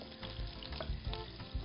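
Duck pieces sizzle and brown in a hot pan as the start of a brothy rice dish, a soft steady frying crackle heard up close and fairly faint.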